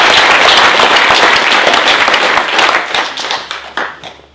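Audience at a French municipal election list presentation for Talant in 2014 breaks into loud, dense applause that holds steady, then thins and tapers off over the last couple of seconds.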